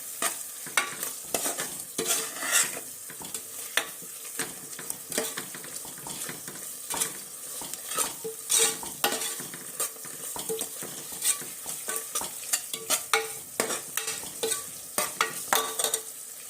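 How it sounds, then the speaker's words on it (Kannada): Masala for egg biryani fries in a pan with a steady sizzle while a spoon stirs and scrapes it, giving close, rapid scraping and clattering strokes throughout. "ಈ ಥರ ಫ್ರೈ ಮಾಡ್ಬೇಕು ನೋಡ್ರಿ"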